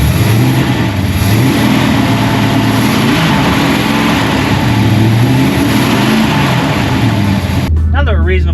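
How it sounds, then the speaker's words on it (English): Hot rod engine idling and revving as it warms up while being winterized, a loud, rough low rumble with periodic rises in RPM throughout, and a person starts talking just before the end. "We'll let the car run until it's up to temperature"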